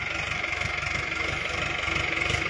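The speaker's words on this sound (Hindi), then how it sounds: "हमारी बेटी ट्रैक्टर लेके आ रही है सामने से, आप देख सकते हो।" A tractor engine runs on a sugarcane farm, giving a steady, moderately quiet idling rumble with a fast, even pulse throughout.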